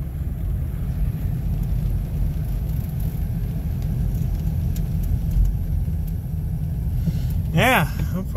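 A Ford F-150 engine running shortly after a cold start, giving a steady low idling rumble throughout, with a brief rising whine near the end.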